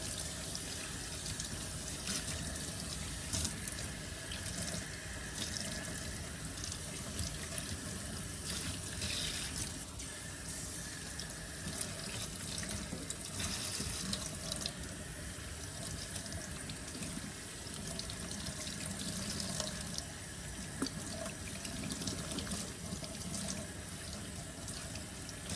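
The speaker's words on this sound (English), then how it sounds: "I'm gonna go ahead and get this rinsed out of her hair." Running water from a faucet rinses shampoo out of a reborn doll's long hair, a faint, steady splashing stream that goes on without a break for the whole stretch.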